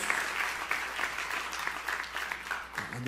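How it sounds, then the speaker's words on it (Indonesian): Church congregation applauding during a sermon, a moderate wash of many hands clapping together throughout, with no one talking over it. "Tepuk tangan yang paling meriah buat Yesus."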